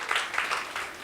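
A church congregation clapping hands during a sermon, making a brief burst of dense, fairly loud applause from many people at once.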